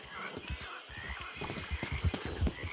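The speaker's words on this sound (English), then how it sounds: "Horsey?" Horse in Red Dead Redemption 2 whinnying and stamping its hooves, a scatter of uneven thuds and a short neigh, fairly close, with a voice faintly in the background.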